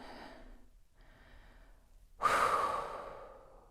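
Heavy breathing during a chair-and-counter beginner workout cool-down: a couple of soft, quiet breaths, then a loud, long, close exhale like a sigh that slowly fades.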